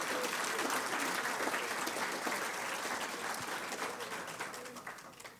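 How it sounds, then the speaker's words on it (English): Sustained applause from an audience in a room sounds for volunteers, dense and even, then fades slightly toward the end. "I'd like to give a big round of applause to everyone in this room who volunteers their time in whatever capacity."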